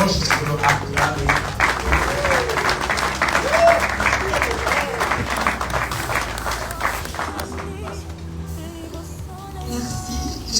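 Wedding guests clap and cheer in a loud, sustained burst of applause at a lively reception, the crowd noise thinning toward the end with voices mixed in.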